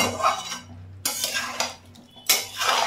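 A spoon scrapes and clatters against a cooking pot as stalks, pumpkin and eggplant are stirred, in three close, loud bursts of metallic scraping with short pauses between, no talking.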